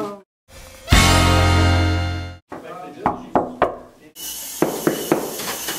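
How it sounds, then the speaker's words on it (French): Knocking on a wooden door in a French-language family scene, several sharp, separate knocks heard close and fairly loud, preceded by a sustained tone and followed by a scrape-like noise. "Maman, quelqu'un frappe à la porte."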